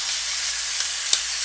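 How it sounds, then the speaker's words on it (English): Chicken sizzling in olive oil with chopped garlic gives a steady, fairly loud frying hiss throughout, with a few brief pops and crackles near the end. "It's going to start sizzling here."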